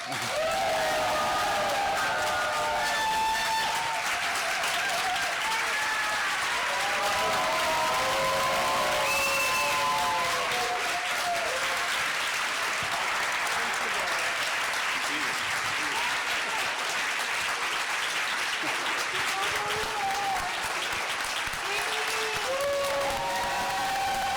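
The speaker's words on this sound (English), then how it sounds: "So I would like to stand up and applaud Alejandro and Kim" A crowd at a performance night breaks into loud, sustained applause with some cheering, dense clapping running throughout while voices call out over it.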